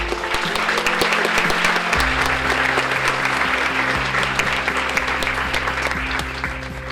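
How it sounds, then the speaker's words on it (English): Sustained, loud applause from an audience at a scholarship awards dinner and reception, many hands clapping continuously with a low musical tone sounding underneath the whole time. "Please give a round of applause for the entire"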